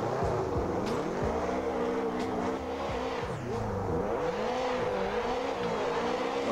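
A Chevy race car in Assetto Corsa, its engine revving loudly and steadily with repeated swooping pitch rises and drops through gear shifts and corners, close and continuous with no one talking.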